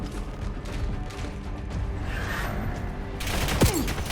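Gunfire in the video game Call of Duty Black Ops 7, a continuous mid-distance barrage of shots and battle rumble that grows sharper and louder near the end, with a brief whizzing streak over it.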